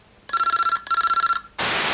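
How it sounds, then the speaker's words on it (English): A telephone bell rings twice in loud, bright bursts with a brief gap between them, then a burst of hiss follows. "Then suddenly, on Thursday, the phone rang."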